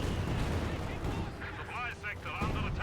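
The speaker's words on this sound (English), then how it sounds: "there you go, 2 mortars again, almost takes out the entire Constable" Mortar fire in Company of Heroes 2 thumps and booms beneath a continuous battle rumble, with a commentator talking over it throughout.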